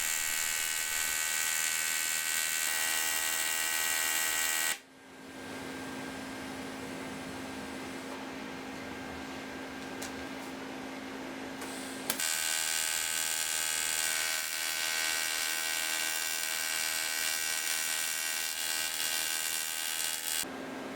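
Welding beads being run along the inside of an aluminium Yamaha T Max scooter frame, a steady loud electric buzz and hiss that drops to a quieter hum midway, then resumes at full strength.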